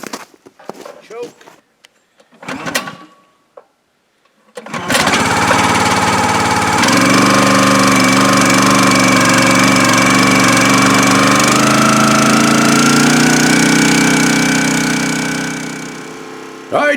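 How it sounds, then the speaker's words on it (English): Gas engine on a log splitter cranking and firing up after a few rough pulls and short bursts, then roaring into a loud steady run close by, with a slight pitch shift partway through; a voice is briefly heard before the start. "Let's see how she does. It's never given me any trouble. It's been a good splitter."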